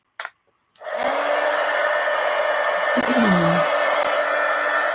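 A hair dryer blows steadily at close range to dry ink on journal pages. A brief click is followed by a sustained airy roar, with a short pitch wobble as the dryer is moved.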